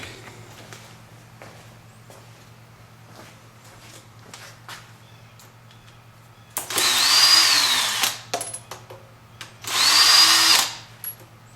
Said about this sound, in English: So I'm going to go ahead and take these screws out.